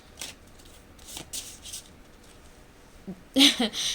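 A small deck of cards is shuffled by hand in several short riffling bursts, the last one louder and closer, with quiet gaps between.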